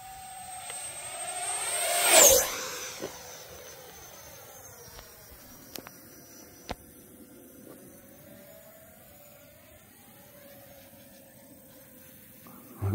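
A Freewing Zeus 90mm electric ducted-fan RC jet screams past on a fast low pass with a rising then falling Doppler whine, then fades to a distant, faint hum, with a few sharp clicks along the way.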